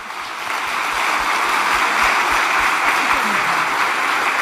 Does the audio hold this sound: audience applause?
yes